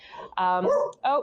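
A dog barks in short, loud yelping bursts indoors, with a brief gap before a final bark, sounding close and carrying over the room.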